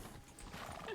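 Horse hooves clip-clop at a steady gait in the RedM Western game, a quiet, continuous patter of shod hooves with a muffled background bed.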